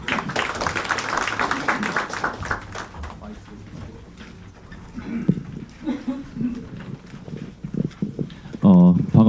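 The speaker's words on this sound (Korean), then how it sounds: "박수로 맞아주십시오." Applause from a symposium audience welcoming a university professor to the podium, dense clapping for several seconds that thins out, with a voice speaking over the tail.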